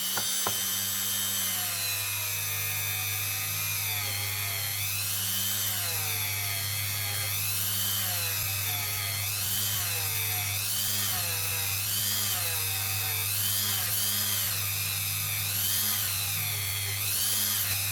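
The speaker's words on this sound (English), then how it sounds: "let's break out David Dremel" A Dremel rotary tool grinds steadily on a Canadian pink ribbon quarter dollar coin being shaped into a ring, a loud continuous high whine with rhythmic rising and falling pitch as the bit bears down, alone throughout.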